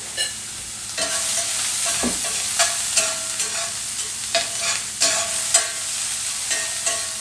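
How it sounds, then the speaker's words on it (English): Onions sauté in a pan with a steady, close sizzle, broken every second or so by the scrape and clack of stirring. "So I'm going to saute that up a few seconds"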